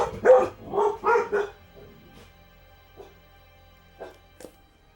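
Several quick, close barks from puppies in a short burst, followed by a few softer yips and whimpers spaced out over the remaining seconds.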